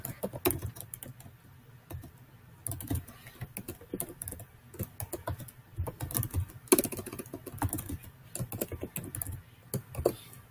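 Quiet, steady typing on a computer keyboard as a comment is entered into Google Docs, irregular key clicks in quick runs with brief pauses between.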